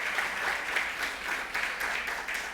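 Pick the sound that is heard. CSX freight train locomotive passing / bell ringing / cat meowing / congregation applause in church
congregation applause in church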